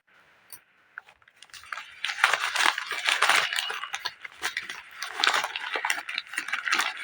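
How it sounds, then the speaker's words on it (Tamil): Glass bangles handled up close and checked for cracks, giving a busy run of light clinks and rattles that starts faint and then grows dense and steady for several seconds, with no talking. "கண்ணாடி வளையல் வாங்கும்போதே நம்ம வந்து செக் பண்ணி பார்த்து அதாவது உடஞ்சிருக்கான்னு இப்படி செக் பண்ணி பார்த்து வாங்கிட்டு வந்துக்குங்க"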